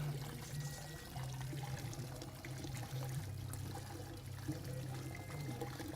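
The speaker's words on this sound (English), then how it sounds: "We'll let that drain for just a moment" Water drains from cooked asparagus in a steady close trickle and pour that stays even throughout, with a low hum beneath.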